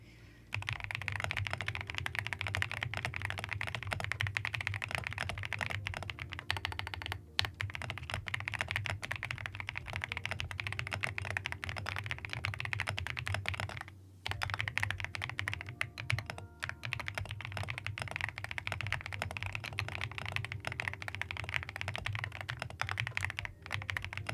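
Fast, continuous typing on a mechanical keyboard fitted with marshmallow keycaps, producing a dense, close stream of soft thocky key presses with a brief pause midway.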